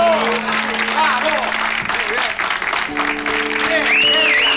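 An audience applauding after a speech, a steady dense wash of clapping with cheering voices and shouts of praise riding on top throughout.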